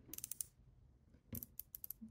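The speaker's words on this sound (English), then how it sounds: "we got our clicker, very nice tactile clicker" A Shimano SLX BFS baitcasting fishing reel's clicker ticks in two short bursts of crisp, rapid mechanical clicks, close and quiet with a brief gap between them.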